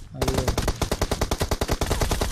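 Rapid automatic gunfire in the battle game Free Fire, a loud, close burst of evenly spaced shots firing continuously for about two seconds.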